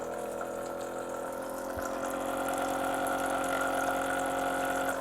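A portable espresso machine's pump forces out cold water with a steady, fairly loud mechanical buzz and hum over a faint trickle, unbroken for the whole stretch.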